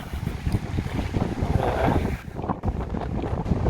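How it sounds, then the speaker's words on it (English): Strong gusting wind buffets an outdoor microphone on a blustery rural hillside in France, loud low rumbling that surges and briefly dips before picking up again, with no talking. "Very windy, so I hope you can hear me."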